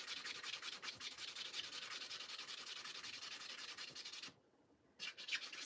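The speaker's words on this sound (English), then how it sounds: "Actually, I'm going to sand this down." A tumbler is sanded by hand in long, continuous rasping strokes, close and fairly quiet, with a brief pause near the end before the rubbing resumes and no talking.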